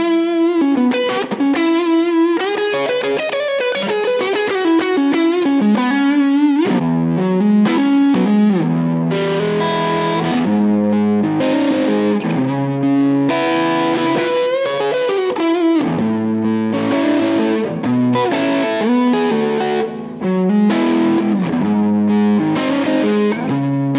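A 1996 Gibson Joe Perry signature electric guitar on its neck pickup, run through distortion and chorus effects, plays a continuous loud, warm, saturated riff with sustained chords and runs, with no talking.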